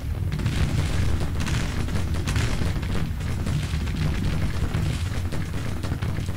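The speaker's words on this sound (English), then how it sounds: "I think our howitzers are taking some counter-battery" Counter-battery artillery fire on Civil War howitzers in Grand Tactician: Civil War, a continuous low rumble of distant cannon booms and explosions rolling steadily underneath, no voices.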